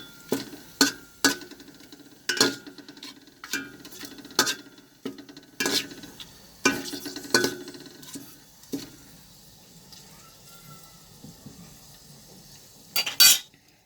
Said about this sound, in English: Just let it get fried in the oil.